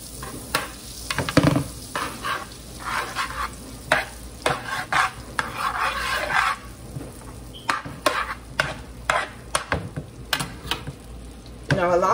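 Two spoons of butter sizzling in a frying pan while being stirred, a close, loud crackling hiss broken by scraping strokes and a few clinks of the utensil against the pan.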